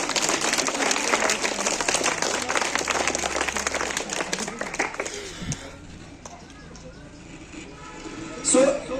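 A crowd of students and teachers claps for the winning eighth class at a school results event, dense applause filling the first half before thinning out, with talk underneath and a brief louder burst near the end.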